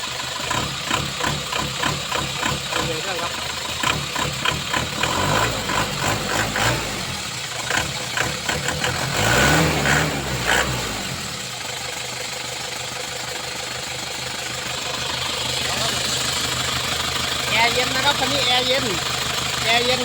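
An Isuzu TFR pickup truck with a cable throttle idles up close with a steady, knocking diesel-like rhythm, a brief rise in the middle, while someone talks over it.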